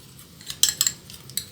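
A spoon stirring a turmeric drink in a glass, several quick bright clinks of metal against glass, close up with no talking.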